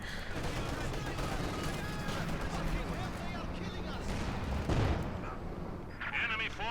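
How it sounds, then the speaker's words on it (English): Battle in Company of Heroes 2 as a sniper fires at a machine gun position, with dense overlapping gunfire and distant artillery rumble under continuous talking. "Sniper picking away at that machine gun though."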